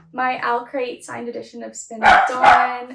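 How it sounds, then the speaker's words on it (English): A dog barks several times indoors, loud yips clustered at the end, while someone talks over the first part. "Sorry if you can hear my dog barking."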